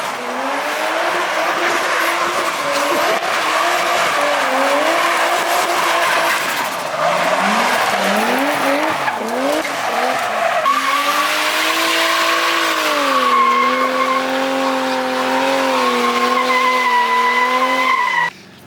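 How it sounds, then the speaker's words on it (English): Tires squeal in long, wavering screeches over a loud, steady engine roar as a car spins close by, with one brief break partway through. "Let Jimmy do donuts in your broken ring car."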